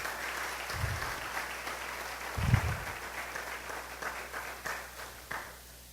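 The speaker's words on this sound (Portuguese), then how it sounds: "Pode glorificar a Deus com palmas." A church congregation clapping in praise of God during a sermon, a soft, steady patter of many hands with a few sharper claps and low thumps, fairly distant and without talk.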